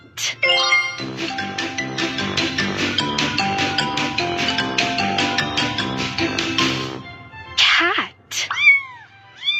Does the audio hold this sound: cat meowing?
yes